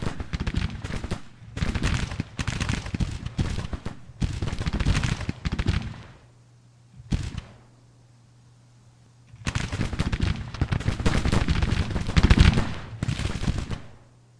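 Massed rifle volleys crackle in the Grand Tactician: The Civil War strategy game, in dense rolling bursts separated by quiet pauses and a steady low hum.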